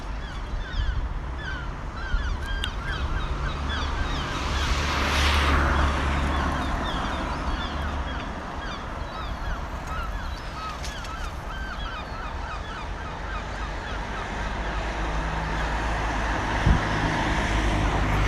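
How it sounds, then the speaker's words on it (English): Seagulls squawk repeatedly in a busy town, their overlapping calls coming from middle distance over a constant wash of road traffic noise, with no voices nearby. "just hearing the seagulls"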